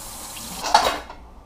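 Fresh green onions rinsed under a running tap, a short splash of water over the stalks that swells briefly and then cuts off.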